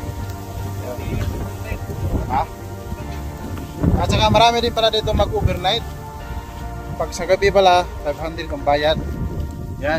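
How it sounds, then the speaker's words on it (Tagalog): Steady rain hisses throughout while people talk close by over the downpour. "Ulan na naman"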